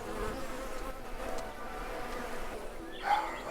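Bees buzz around wooden beehives in Lumberjack's Dynasty, a steady low insect drone filling the scene, with a brief brighter sound near the end.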